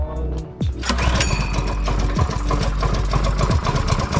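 A Predator 224cc small engine on a three-wheeler build fires up and settles into a steady, close, loud running chug with a rapid regular beat, alone without talk.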